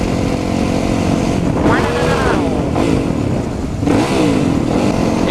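A person mimics a roaring vehicle exhaust with their mouth, two drawn-out rising and falling vocal sweeps layered over the steady drone of a running engine nearby.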